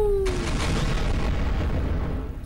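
Bombs detonating in Garry's Mod on a Halloween map, a sudden deep boom followed by a long rumbling blast tail that slowly fades.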